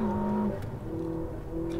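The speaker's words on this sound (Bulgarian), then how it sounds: "Подавам газ. Превключвам на втора." A Ferrari SF90 XX Stradale accelerates and shifts into second gear, its close engine tone dropping abruptly mid-way then settling into a steady, loud drone.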